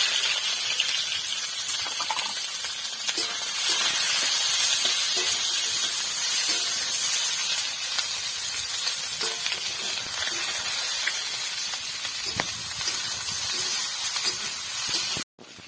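Chopped onion hitting hot oil with cumin seeds in a pan gives a steady, loud hiss of sizzling that runs unbroken throughout, with occasional faint clinks, then cuts off abruptly at the end.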